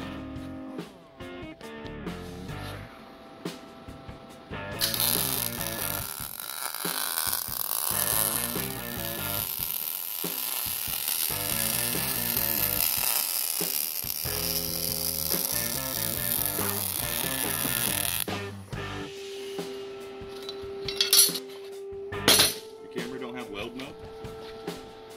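A worker fits a new mounting base for a forklift in a workshop, heard as close clicking ratchet turns and metallic tool sounds, with sustained mechanical noise through the middle and voices talking over the work.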